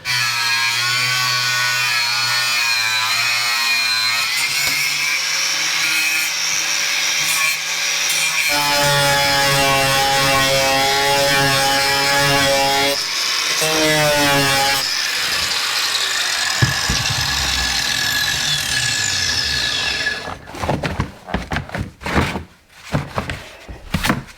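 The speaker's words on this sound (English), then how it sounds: "Using a grinder to cut this stuff, by the way, is total crap." An angle grinder cuts through a plastic panel during work on a Jeep XJ. The cut is a loud, continuous whine that shifts pitch as the disc loads and eases, then breaks into choppy, uneven grinding near the end.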